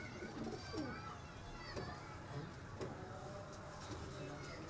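Pigeons on a Gujranwala rooftop coo in soft repeated bursts, faint and somewhat distant, with low murmurs and background noise beneath.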